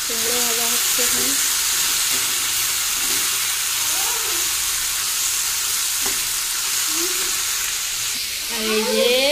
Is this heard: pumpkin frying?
yes